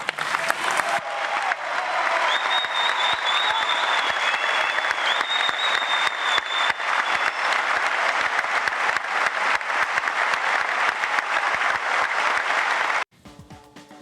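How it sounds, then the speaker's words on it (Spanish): Sustained applause from national deputies filling the Chamber of Deputies of the Argentine Nation, a dense, steady roar of many hands clapping for nearly the whole stretch before cutting off abruptly near the end. "los aplausos de los diputados nacionales, los aplausos de las diputadas nacionales, el aplauso de Malena Galmarini, su esposa,"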